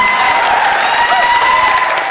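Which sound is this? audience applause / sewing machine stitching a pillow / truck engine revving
audience applause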